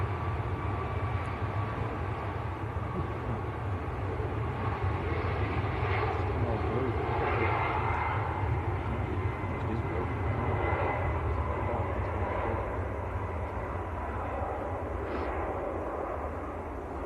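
An Emirates airliner departing Manchester Airport, a continuous loud engine roar with steady low rumble and a broad hiss, heard from a distance with faint talk underneath.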